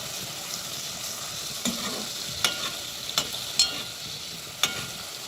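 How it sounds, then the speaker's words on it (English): Green seasoning sautés in a pan with a soft continuous sizzle, broken by several sharp utensil clicks and scrapes as it is stirred. "Let the season saute a little bit."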